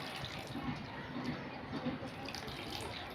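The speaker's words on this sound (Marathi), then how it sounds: "पाण्यामध्ये टाकून आपण याचं पूर्ण हे जे आहे ना टॉर्च जाईपर्यंत 3-4 पाण्यातून धुवून घेऊया" Grated potato being rinsed in a bowl of water, a soft, steady sloshing and trickling at low level, close by, with no talk.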